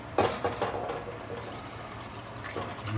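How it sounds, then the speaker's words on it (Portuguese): Milk poured gradually into a sauce in a pan, a soft close liquid trickle and splash at the start fading to a quieter wet bubbling, with no talking. "já vamos começar a acrescentar o nosso litro de leite"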